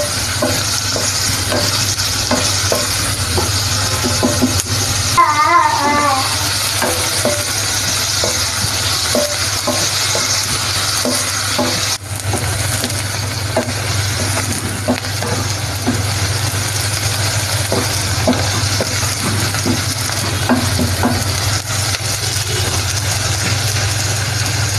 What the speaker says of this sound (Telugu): చూడండి, ఉల్లిపాయలు బాగా వేగాయి